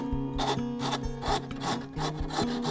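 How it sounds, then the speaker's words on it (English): A wood rasp working round a wooden coat hook at a 45-degree angle, a quick run of close, rhythmic back-and-forth scraping strokes, about six in under three seconds, with no talk. "just use the rasp and go round at 45 degrees"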